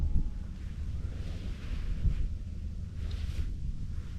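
Steady wind rushing through the woods around a deer stand during a Wisconsin bow hunt, a continuous low broadband roar with gentle gusts swelling and easing, no voices.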